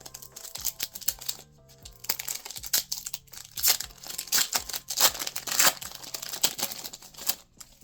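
A foil trading card booster pack wrapper is torn open close to the microphone, giving loud crinkling and ripping in irregular bursts. A few sharp snaps and crunches come through over about eight seconds, with no voices.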